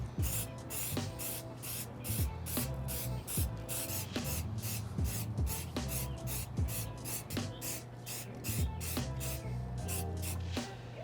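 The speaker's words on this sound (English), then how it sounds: "I'm gonna go outside and spray some Rejuvenator water and stain repellent." Rejuvenator water and stain repellent sprayed onto metallic Air Jordan 5 sneakers outdoors, a steady run of close aerosol bursts in a regular rhythm, each short hiss repeating about every second over a constant low background hum.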